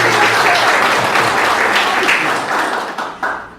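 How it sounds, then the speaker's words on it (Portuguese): Applause for a speaker at a lecture, fairly loud and close, a thick burst of clapping that holds steady and then thins out toward the end with a few last claps. "Uma salva de palmas para a Marta Franco."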